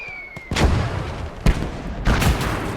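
Heavy booms from a World War II tank battle video game with an early StuG assault gun, three loud blasts spaced about a second apart, each with a rolling tail over a low rumbling background.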